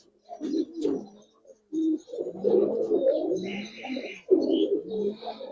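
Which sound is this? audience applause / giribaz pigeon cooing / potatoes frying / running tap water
giribaz pigeon cooing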